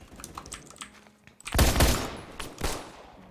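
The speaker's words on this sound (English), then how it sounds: "so far, the gun sounds pretty cool" Pistol fire in the Roblox game Phantom Forces comes as a few scattered, quick shots, then a loud burst of close gunfire with a sharp final crack, set among light clicking sounds.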